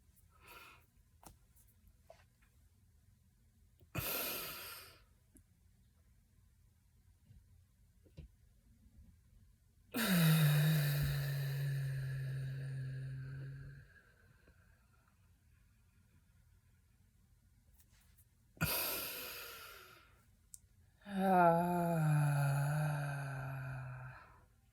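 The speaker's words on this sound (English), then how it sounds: "Breathing it out." Long, deep exhalations come close to the mic, each a breathy rush with a low, toned hum that lasts several seconds, separated by quiet pauses and short sharp inhales.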